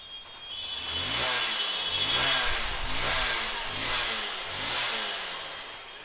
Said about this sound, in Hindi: बाइक हम लोग का स्टार्ट है।